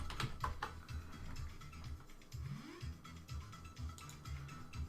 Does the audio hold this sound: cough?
no